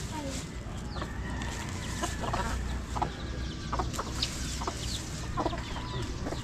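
Several chickens cluck in intermittent clusters against a constant outdoor rumble, with occasional faint voices nearby.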